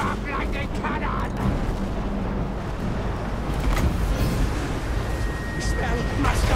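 Cannons fire in a Total War: Warhammer battle: a few heavy booms stand out against a constant roar of combat noise, while someone talks over the action throughout.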